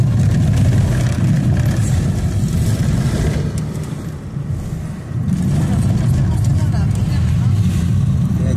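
Road traffic in La Barca, Jalisco, Mexico, where cars line up to cross the river: loud nearby engine rumble with a brief dip as a vehicle passes, and voices talk over it.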